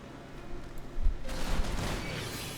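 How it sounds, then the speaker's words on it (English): Explosions in the video game Final Fantasy XIV, with a few dull thuds and then a loud, sustained rumbling burst that fills the rest of the moment, with no voices. "Explosions everywhere."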